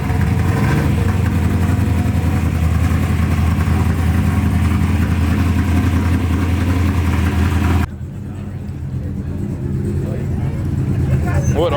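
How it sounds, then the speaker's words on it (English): Turbocharged car engine idling at a car meet, a loud, steady rumble that runs unbroken and then drops slightly in level near the end, with turbo whoosh and voices nearby. "There's just so much turbo noise."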